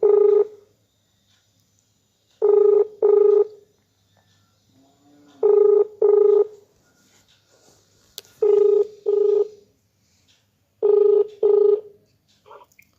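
Phone ringback tone on a call, paired tonal beeps repeating about every three seconds, loud and clear over near silence.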